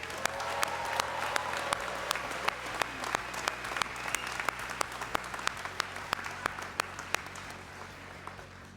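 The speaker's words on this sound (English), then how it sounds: "Let's have another big round of applause for all of our Game Art graduates." An audience at a graduation ceremony for Game Art graduates gives a sustained round of applause, a dense wash of clapping with a few loud individual claps standing out as it slowly thins.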